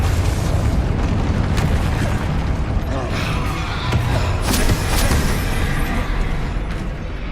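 Confringo explosive spell from Hogwarts Legacy, heard as dense booming blasts and rumbling impacts in quick succession amid busy combat noise, loud throughout without clear speech.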